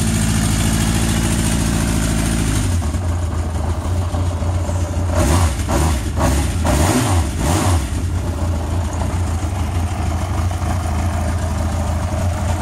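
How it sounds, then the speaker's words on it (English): A warmed-up 1981 Honda CB750K motorcycle engine idles loudly and steadily up close, its rhythm shifting briefly midway with a few pulses before returning to an even rumble. "I'm just gonna let it idle there so you can hear the sound that it makes right now."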